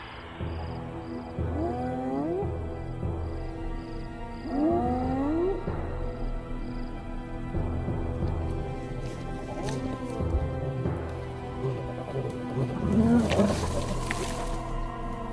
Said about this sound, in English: Making so much noise, she attracts the lions.